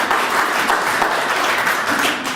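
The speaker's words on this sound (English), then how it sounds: "that's the applause part" Applause from the audience at a press conference launching the Fossil Fuel Freedom Campaign: close, loud, continuous clapping, even and sustained throughout.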